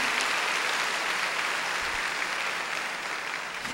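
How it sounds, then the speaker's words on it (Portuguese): Audience applause fills a church, a steady broadband wash of clapping that holds at an even level throughout with no voices on top. "se você quer aplaudir, aplauda"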